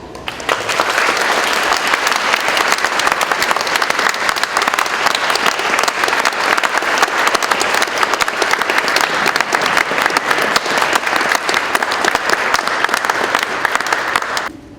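Church congregation in Jauche applauds the bishop and choir, a sustained, dense, loud ovation of many hands holding steady for the whole stretch before stopping abruptly.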